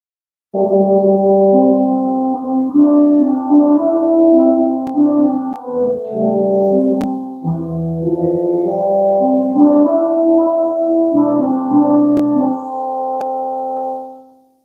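A mellow organ reed stop imitating a French horn plays a slow, sustained melody with rich chords, steady and full, without any talking.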